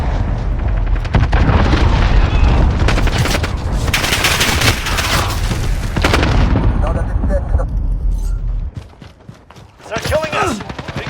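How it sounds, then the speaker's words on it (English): Explosions from a cruise missile strike in the video game Call of Duty: Modern Warfare, a loud, dense barrage of booms and gunfire-like blasts that roars on for several seconds before dropping away, then a further burst near the end. "Allied cruise missile launched."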